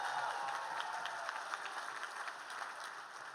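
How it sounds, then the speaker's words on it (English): Audience at a teachers' union lobby day applauding parents on stage, sustained crowd clapping heard from some distance, fairly faint and steady. "Give them a round of applause."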